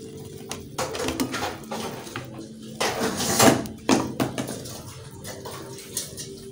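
Water is poured into a cooking pot of diced potatoes and chicken mince, giving a few splashing, clattering bursts with pan and utensil knocks that come and go close by over a quiet kitchen background.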